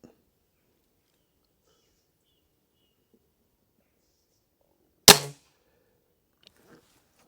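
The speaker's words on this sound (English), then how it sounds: "A lot of twang in these guns, isn't there?" A single sharp, close crack of a Weihrauch HW57K .177 spring air rifle firing, with a short ringing twang after, then near silence apart from faint handling clicks.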